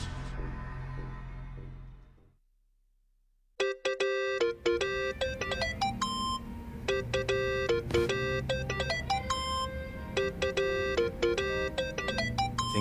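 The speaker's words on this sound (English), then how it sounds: "that's your phone, man." A mobile phone ringtone chimes in the video game Yakuza: Like a Dragon, a bright repeating melodic ring that starts after a brief silence and keeps going loud and steady with no talk over it.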